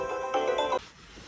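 An Oukitel WP33 Pro smartphone plays a loud, bright electronic ringtone, a short run of ringing tones that stops abruptly after under a second.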